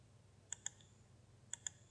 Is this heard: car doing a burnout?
no